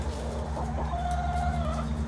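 Chickens cluck close by in a farmyard, with a short rising call standing out over steady low background rumble; no voices are heard.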